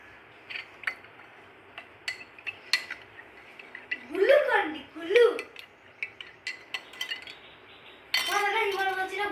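A metal spoon clinks repeatedly against a glass of cold water in a home kitchen, producing a run of bright, close taps and rattles, with a voice speaking briefly partway through and again at the end.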